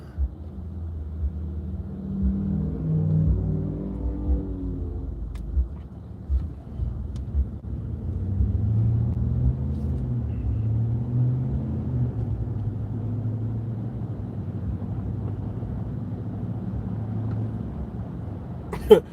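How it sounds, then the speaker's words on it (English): A car drives through heavy traffic with a steady, close low rumble of engine and road noise and some wind buffeting throughout, with no talk. "I told you it's a lot of traffic out here."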